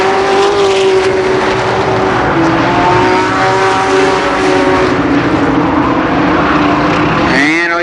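Race cars roaring around Columbus Motor Speedway at a 1990 fall Speedfest, several engines close and loud in a sustained drone as drivers battle for third, with one engine pitch rising sharply at the end.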